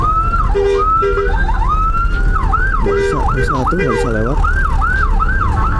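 A loud ambulance siren wails continuously amid heavy night traffic rumble in Yogyakarta, its pitch sweeping up and down, while someone speaks briefly nearby.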